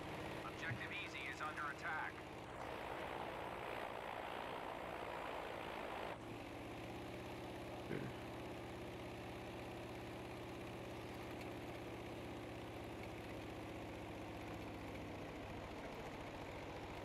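An enemy airplane engine in the video game Battlefield V drones steadily, a low, continuous hum that shifts in pitch partway through, with faint voices underneath.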